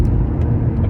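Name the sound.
four-cylinder car engine accelerating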